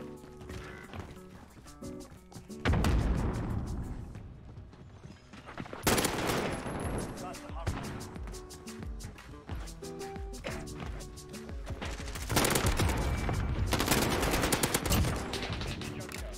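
AN94 rifle fire in the Modern Warfare video game, with bursts of quick automatic shots close up, interspersed with footsteps and quieter gaps, repeating in several loud volleys.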